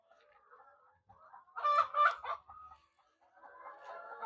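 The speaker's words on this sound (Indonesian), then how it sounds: "Tuh ayamnya tuh teman-teman di dalam kandang ramai ya." Chickens in a backyard coop cluck and squawk, with a louder burst of calls in the middle over softer, steady murmuring clucks, moderately close with no talking.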